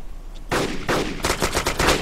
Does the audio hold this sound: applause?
no